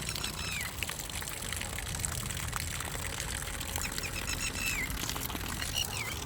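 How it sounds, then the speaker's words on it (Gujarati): Cold Narmada canal water running out of a pipe beside a highway, a continuous splashing pour at moderate level, with faint bird chirps in the background. "અહીં નર્મદાનું નીકળેલું છે મસ્ત મજાનું ઠંડુ પાણી"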